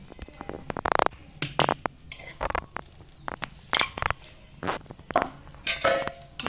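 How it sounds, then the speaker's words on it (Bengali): Sweet potatoes with coriander leaves and chili are stirred in a pan, giving irregular close clinks, scrapes and taps of a utensil against metal, spaced unevenly through the stir. "দিয়ে একটু নাড়াচাড়া করে দেই যেন সব আলুর ভিতরে ফ্লেভারটা চলে যায়"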